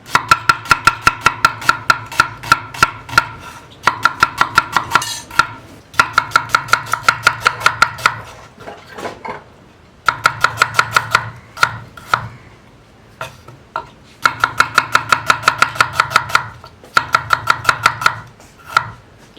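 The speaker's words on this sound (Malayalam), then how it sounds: "അപ്പോൾ നമുക്ക് നമ്മുടെ സവോള കട്ട് ചെയ്ത് തീർക്കാം." Steady bursts of rapid knife chopping on a board as onions are cut, loud and close, in several runs of quick even strokes separated by short pauses and a few scattered single taps.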